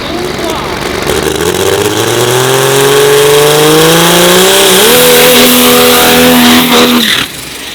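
A Pro diesel dragster with a freshly installed engine roars down the drag strip at a diesel shootout, its loud engine note rising steadily in pitch through the run before cutting off abruptly near the end.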